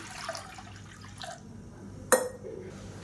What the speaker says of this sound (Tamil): இப்போ இதில் நல்லா ஒரு மூணு டம்ளர் அளவுக்கு தண்ணி சேர்த்துக்கலாம்